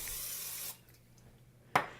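Cooking spray hisses into a pan heating over medium heat, a steady spray for under a second, then a quiet gap and a second short, sharp spritz.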